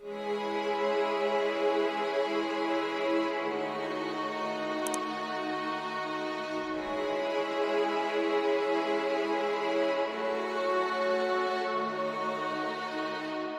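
Dark orchestral session strings in a UK drill beat, drenched in Valhalla reverb and J37 delay, hold a sustained, smooth wash of triad chords that shift slowly, steady and soft throughout with no voices.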